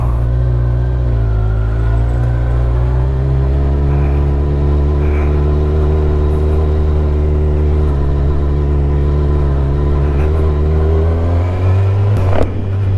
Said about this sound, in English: Let me go see Steve on his shiny new rebuilt VFR.